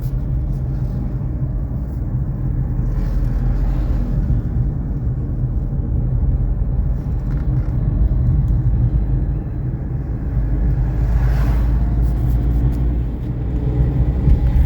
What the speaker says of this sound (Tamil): நானும் மெதுவாக தான் ஓட்டி போயிட்டுருக்கேன் வண்டி